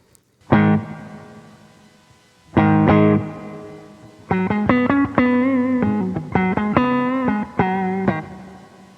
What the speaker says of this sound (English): 1/5 of a second will pass, or 200 milliseconds, before we hear the actual reverb